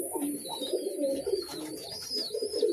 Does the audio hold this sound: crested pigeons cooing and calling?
yes